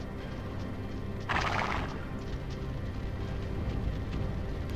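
A horse neighs once in a short burst, heard over a steady low hum of ambient game background noise in a fantasy role-playing game.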